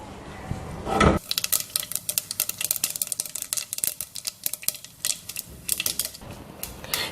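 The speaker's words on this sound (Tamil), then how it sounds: "கடுகு நல்லா பொரிஞ்சிருச்சுங்க." Mustard seeds splutter in hot oil: rapid, irregular popping and crackling up close, a dense spattering that continues after a brief clatter at the start.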